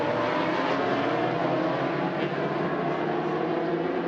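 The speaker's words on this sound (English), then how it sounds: "Bikes on the track." Racing motorcycles circle the street circuit at the Macau Grand Prix, a dense, continuous engine drone that holds steady at a moderate distance without distinct passes.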